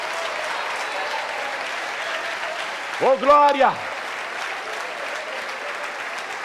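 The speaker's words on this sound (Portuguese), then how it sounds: "Vamos aplaudir mais, vamos aplaudir mais." A church congregation applauds continuously, steady dense clapping throughout, with a brief shout from a voice rising over it midway.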